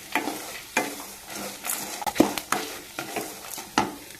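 Coconut, ginger and garlic being sautéed in a pan for a ridge gourd curry, with repeated stirring scrapes and a soft sizzle in close, irregular bursts.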